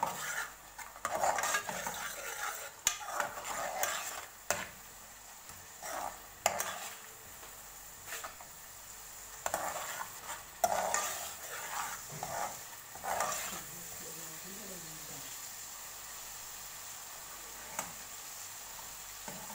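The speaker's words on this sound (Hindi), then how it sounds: "मसाला भून रहा है बहुत अच्छा सा" Masala with green chilli roasting in a pan for a brain masala dish, a spoon scraping and stirring in irregular bursts over a faint sizzle, with quieter stretches toward the end.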